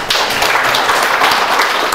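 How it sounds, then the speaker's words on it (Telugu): Dense, loud applause from the audience at the Rangareddy district Velama Association's new executive committee swearing-in ceremony, a steady wash of clapping that holds through the whole stretch with no voices over it. "సార్ గట్టిగా చప్పట్లతో"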